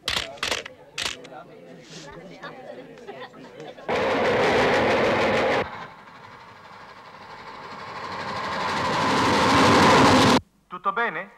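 A passenger train travelling away from Genoa at night, with a sustained rolling rumble and broadband rush that swells and builds over several seconds, following short clicks and a voice at the start, then cuts off abruptly.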